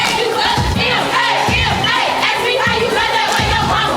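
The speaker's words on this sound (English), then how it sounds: "A cheer chanted in competitive jest by cheerleaders at Quincy's basketball game" Cheerleaders at a high school basketball game chant a rhythmic cheer in unison, loud and close, with crowd noise and shouting filling the gym throughout.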